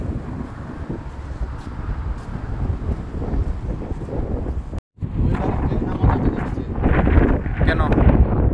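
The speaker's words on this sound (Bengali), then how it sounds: "ও বাতাস, গাড়ি চালা ভেঙে ফেলবে এরকম বাতাস।" Strong wind at a Miami sea beach buffets the microphone in loud, rumbling gusts that swell and drop, with a brief cut partway through and heavier roaring toward the end.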